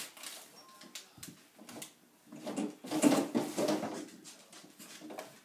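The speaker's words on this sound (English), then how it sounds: "You have to shut the drawer first." A young child pushing a fridge drawer shut in a home kitchen, making a cluster of knocking and sliding plastic clatters, close and fairly loud, with a bit of talk in the background.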